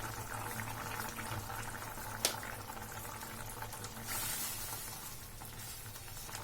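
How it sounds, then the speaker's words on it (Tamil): Water at a rolling boil in a pot, a steady bubbling hiss with a brief louder pop partway through; no voices. "நல்லா கொதி வர ஆரம்பிச்சிருச்சு"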